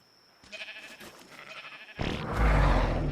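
Sheep bleat in the video game ARK, with a short burst of bleating followed by a louder, noisier bleat and rustle, close and with no speech.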